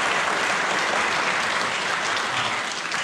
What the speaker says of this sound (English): So let's give Shane a round of applause for him.